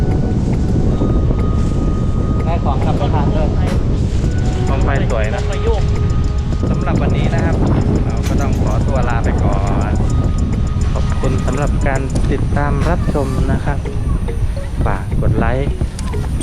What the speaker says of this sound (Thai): อ๋อลมแรงมาก